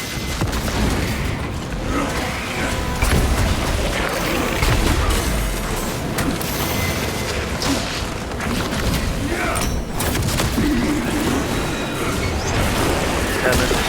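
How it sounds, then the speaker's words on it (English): A frag grenade bursts amid Space Marine video game combat, with booming blasts and clattering gunfire forming a dense, loud, continuous barrage throughout. "Throwing frag grenade."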